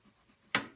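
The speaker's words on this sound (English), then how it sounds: "Colouring pencils are very good for" A short burst of dry scratching, like a coloured pencil scribbled quickly across paper, after quiet rustling, ending with a faint click.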